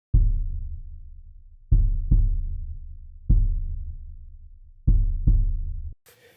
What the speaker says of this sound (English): So if I were to solo this kick slash timpani track, this is what the individual track sounds like